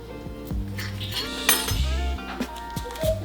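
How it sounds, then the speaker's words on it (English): A fork clinks and scrapes against a bowl while mixing dry breading for chicken, with quick irregular taps and rattles up close. "get a fork and mix your dry breading up"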